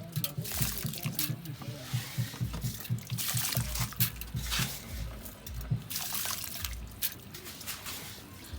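Rice is tipped into a pot of water to cook, giving a wet pouring, splashing and trickling sound close by with a voice talking faintly underneath.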